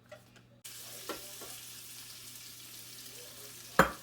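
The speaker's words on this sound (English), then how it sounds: "I'm just going to add some butter into the frying pan." Shrimp frying in butter in a frying pan gives a steady, close sizzle that stays even throughout, opening with a few soft knocks and ending on a sharp utensil clack.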